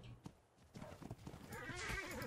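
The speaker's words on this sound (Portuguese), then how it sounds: "Passeando de cavalo aqui tranquilinho." Hooves clip-clop from a horse being ridden in a video game, set against faint game background sound, with a whinny near the end as the steps continue.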